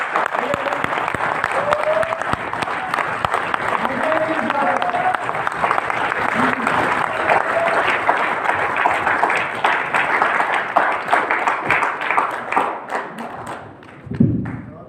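A room full of people clapping during a sales training session, loud, close and continuous for about fourteen seconds, with a few thumps and voices mixed in before it tapers off and a short low thud ends it.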